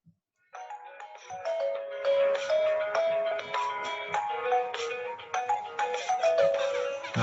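A melodic electronic ringtone plays after a door is entered in a multimedia computing project, a bright tune of rising and falling notes that starts abruptly and continues steadily, alone and clear.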